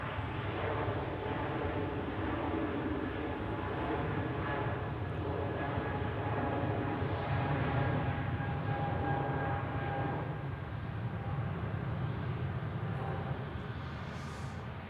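Airbus A220 departing Zurich Airport on a crosswind day, a sustained jet engine roar that holds steady at a distance for the whole stretch, with no talking.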